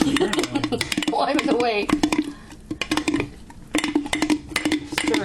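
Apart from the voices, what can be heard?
stirring sourdough starter in a bowl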